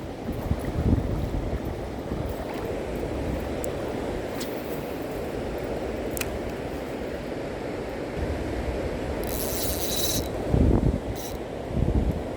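Strong gusty wind roars across the microphone on a riverbank under a bridge during a mandarin fish outing, a steady loud buffeting rush with a few sharper gusts and faint clicks, no talk.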